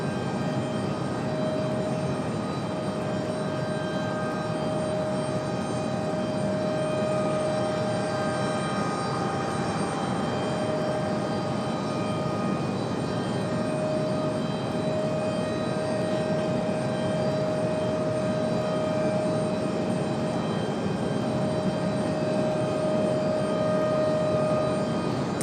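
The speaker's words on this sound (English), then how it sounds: "That's 737-800. Going to be our next arrival here in just a minute." Boeing 737-800 jet airliner arriving at Raleigh-Durham International Airport, a steady, continuous engine roar with a sustained high whine that holds evenly throughout at moderate distance, no voices.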